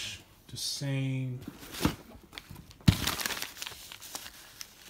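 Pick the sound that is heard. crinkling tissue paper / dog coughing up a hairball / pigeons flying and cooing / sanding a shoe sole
crinkling tissue paper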